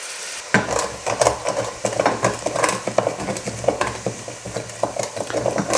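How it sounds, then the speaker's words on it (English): A frying pan being deglazed after browning meatballs sizzles steadily while a utensil scrapes and stirs with quick repeated strokes, close and fairly loud, no talk. "Now what I'm going to do is just deglaze the pan, so give it a bit of flavour."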